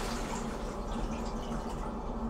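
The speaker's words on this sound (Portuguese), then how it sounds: "e a água corre." Water runs steadily from an automatic restroom tap activated by a push button, a continuous close hiss of flowing water with no talk over it.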